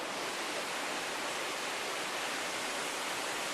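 Water of the Stóra Laxá river rushes steadily downstream, a dense, unbroken roar close by that holds the same level throughout, with no voices.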